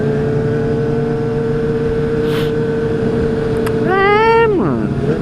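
A group of motorcycles including a Honda CBR600RR idles with a loud, steady engine hum on a central city street in Mogi early in the morning, then one bike revs sharply up and drops back down near the end.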